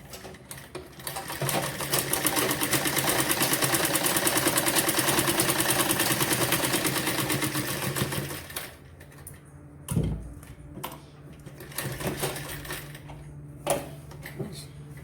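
Close sewing machine stitching a Patiala salwar, running continuously for about eight seconds with a rapid mechanical rhythm, then stopping, followed by handling clatter and a voice.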